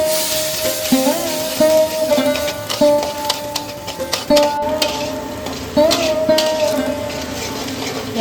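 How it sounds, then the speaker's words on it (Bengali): Fish curry spice paste hits hot oil tempered with dried red chillies and fenugreek, giving a moderate sizzle broken by repeated scraping and clinking of a spatula against the pan, with no talking. "ফোড়নটা দিয়ে আমরা দিয়ে দেব আগে থেকে করে রাখা মাছের ঝালের মশলাটা।"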